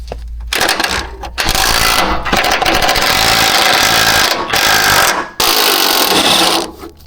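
A 17 mm wrench works a crossbar bolt loose under the hood of a 2007–2012 Acura MDX during an AC compressor replacement, giving a steady metallic rasping and scraping in long bursts with short pauses, close up and fairly loud.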